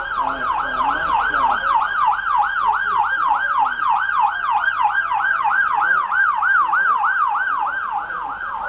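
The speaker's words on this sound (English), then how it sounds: "Ambulance coming." An ambulance siren wails loud and steady in a continuous rising-and-falling cycle at a Labor Day parade in Mooers, with faint road noise beneath it.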